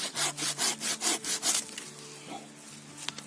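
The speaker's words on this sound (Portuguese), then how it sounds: "eu corto aqui com o serrote" A hand saw cuts through grapevine wood during vineyard pruning, about seven quick, even back-and-forth strokes up close, then the rasping stops and only faint handling noises remain.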